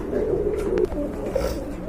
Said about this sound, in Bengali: এখানে কিন্তু আরেক জোড়া কবুতর দেখতে পাচ্ছেন লাহরি কবুতর